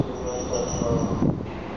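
A Keikyu 2000 series eight-car Airport Express train bound for Haneda Airport arrives at Kawasaki station, its wheels squealing steadily on the rails with a rumbling undertone, fairly close and continuous throughout.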